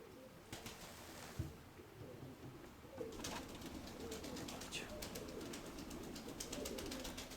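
Pigeons coo softly in low, throaty murmurs against a noisy outdoor background, with a few faint flutters and clicks.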